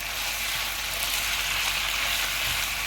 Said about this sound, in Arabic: وكل ده هنشوحه كده مع بعضه. اول ما ريحه الثوم هتطلع